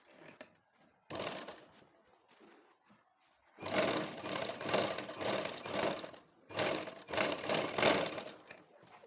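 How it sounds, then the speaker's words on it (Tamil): Sewing machine stitching the sleeve of a garment at the shoulder joint: short runs of fast, steady mechanical whirring, one brief burst then two longer stretches, separated by quiet gaps with no talk. "இப்போ கை நல்லா 2 தையல் போட்டு ஜாயின் பண்ணியாச்சு."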